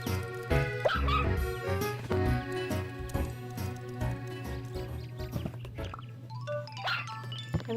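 Cartoonish virtual puppies in Nintendogs + Cats yap and yip repeatedly over looping game music, quick high barks scattered throughout.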